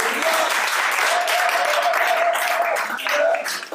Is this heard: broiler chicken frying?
no